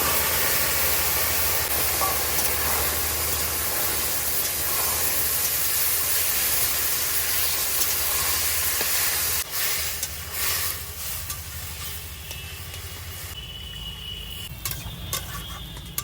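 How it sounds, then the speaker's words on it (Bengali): Curry vegetables for a Bengali pui shak (Malabar spinach) dish hitting a hot pan, a loud, steady hiss and sizzle that eases a little toward the end, with occasional clatter. "এবার দিয়ে দিচ্ছি তরকারিটা"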